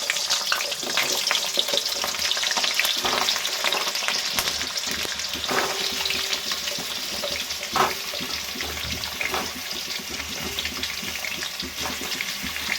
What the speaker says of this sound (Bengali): কড়াইয়ে তেল গরম হয়ে গেছে, দিয়ে দিচ্ছি আমি কেটে রাখা আলুগুলো।